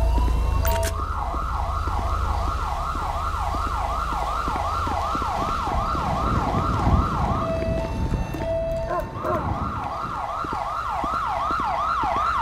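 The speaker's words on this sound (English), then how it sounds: "let's get our ambulance out here" Ambulance siren in the police game GTA V with the LSPDFR mod, a loud rapid wailing yelp cycling steadily over engine rumble, briefly cutting out near the end before resuming.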